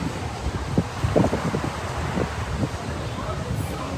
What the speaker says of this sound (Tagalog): Malakas ang hangin at saka ang alon